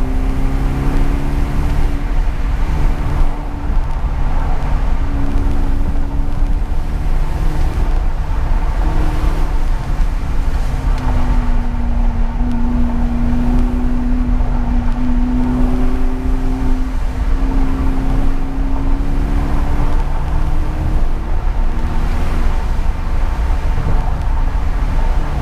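A BMW 745i E65 with an exhaust cut-off valve installed drives through town, its engine a loud continuous drone with slowly rising and falling tones as it cruises.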